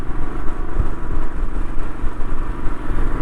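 Steady engine and road roar from inside a vehicle overtaking on the M5 motorway, a loud continuous drone with slight surges and no talk.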